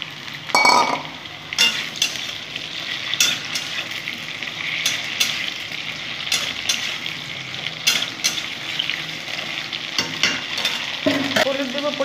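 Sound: taro pieces frying and being stirred in a pan

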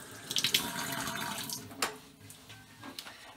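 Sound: rinsing hands under running tap water

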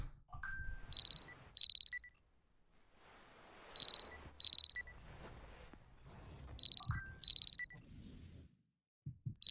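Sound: alarm ringing in the video game Parasocial

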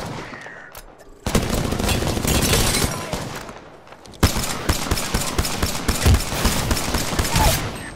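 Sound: Prowler SMG burst gunfire in Apex Legends video game

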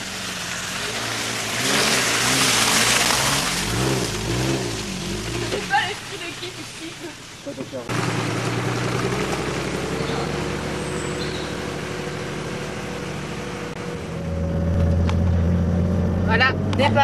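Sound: 4x4 off-road vehicle manoeuvring around a deep puddle

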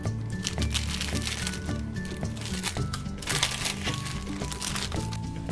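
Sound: opening a science kit package, crinkling packaging

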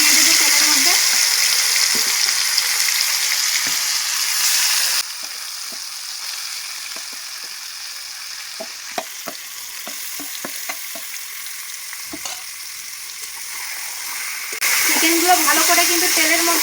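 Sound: marinated chicken frying and stirred in hot oil

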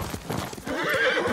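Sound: horse hooves and neighing in the video game Ghost of Tsushima

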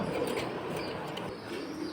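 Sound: pigeons at a pigeon market

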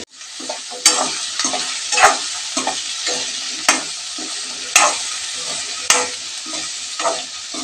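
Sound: cut okra pieces frying and stirred with onion and tomato

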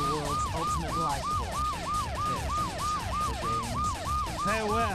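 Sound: police siren in Sonic Adventure 2 video game

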